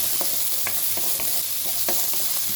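Sliced onion frying in oil with garlic in a pan, a steady broadband sizzle with a few sharp stirring scrapes spaced through it, close and fairly loud, with no talking.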